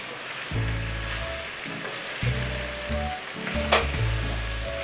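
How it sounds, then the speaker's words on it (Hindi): Onions sizzle and crackle steadily in a hot pan, with a low hum running underneath and a few sharper pops, close by and continuous. "प्याज को मैंने हल्का सा फ्राई किया है"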